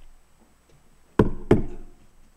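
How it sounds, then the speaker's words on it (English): Two firm knocks on a door, about a third of a second apart, close and distinct against a quiet background. "Outside that door, he's knocking."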